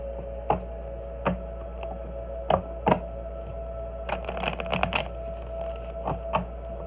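Tarot cards being shuffled back together by hand, heard as scattered dry ticks and soft riffling bursts, a few isolated snaps early and a denser flurry of shuffling near the end, close and fairly quiet.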